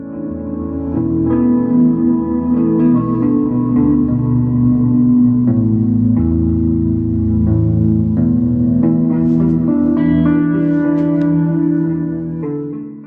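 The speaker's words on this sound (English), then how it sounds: "two Fender Super Champ X2 15-watt tube amps. Let's take a listen to it." A looped electric guitar phrase plays through a pair of Fender Super Champ X2 15-watt tube amps with 10-inch speakers, sustained and reverb-washed with a chorus-like shimmer, steady and loud for the whole stretch with no talking.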